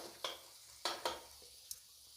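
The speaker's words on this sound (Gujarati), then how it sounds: "હવે આપણે એને સરખી રીતે હલાવી લઈશું અને મસાલો બધો ભળી જાય ખીચડીમાં" Leftover masala khichdi is stirred into a sizzling tempering in a pan: three or four quick scraping strokes of the spoon rise over a steady, soft hiss of hot oil.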